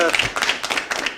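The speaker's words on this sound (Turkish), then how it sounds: "Bir alkışlayalım." Audience clapping on a live Turkish TV show, a brief burst of loose, uneven handclaps close by, with a voice speaking at the same time.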